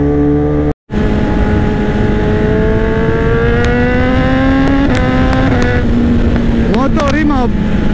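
BMW S1000RR 2018 motorcycle engine under way, a loud steady roar with rising harmonic pitch as it accelerates and a brief dropout near the start, then rapid pitch wobbles of gear changes or throttle blips near the end.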